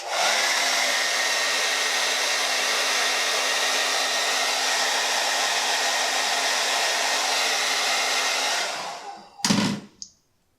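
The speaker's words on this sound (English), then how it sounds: "I'm going to hit it with a hair dryer." A hair dryer warms mustache wax with a loud, steady close whoosh and motor whine running unbroken for about nine seconds, then cuts off, followed by brief handling noises.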